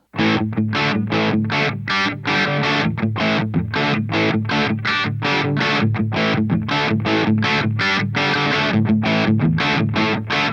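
A crunchy, distorted electric guitar through a Boss Katana MK2 amp pounds out a song in tight, evenly spaced chugging chords, fast rock rhythm, loud and up close.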